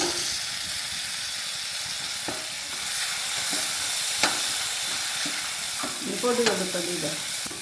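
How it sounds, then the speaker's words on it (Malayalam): Green chillies frying in hot oil over a medium flame, a steady sizzle and hiss close by with occasional stirring taps and clicks against the pan, no talking. "ഇതൊന്ന് നന്നായിട്ട് മൂത്ത് വരട്ടെ രണ്ട് മിനിറ്റ് അങ്ങോട്ട് മൂപ്പിക്കുക മീഡിയം ഫ്ലെയിമിലിട്ടിട്ടില്ലേ"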